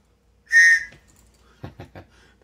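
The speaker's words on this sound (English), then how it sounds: "Tops Knives Spec Ops Trust Ops emergency whistle." One sharp, loud blast from a Tops Knives Spec Ops emergency whistle sounds up close, followed by a few short knocks and handling sounds.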